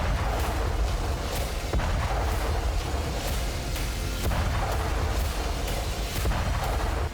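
Artillery fire on a front line: a dense, continuous roar of distant booms and rumbling blasts, with repeated sharp impacts standing out roughly every second or so over steady heavy low-frequency noise, no voices.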